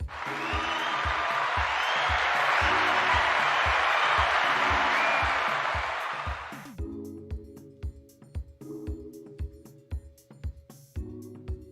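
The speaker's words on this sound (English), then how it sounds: "Everyone applaud Sweetie's commitment" A crowd claps in sustained, dense applause for about six seconds at a baking demonstration, then it fades out as sparse rhythmic sounds continue.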